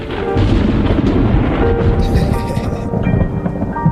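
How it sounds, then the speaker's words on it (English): Thunder rumbles loud and deep through a thunderstorm, with rain washing underneath as the rolling booms swell and fade over a few seconds. "Hope y'all make it through the storm."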